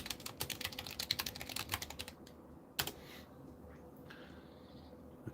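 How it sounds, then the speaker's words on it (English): Rapid keystrokes on a computer keyboard in a room, a dense run of clicks for about two seconds, then a few scattered taps and quieter pauses, close and fairly soft with no talking. "So I'm just typing back here."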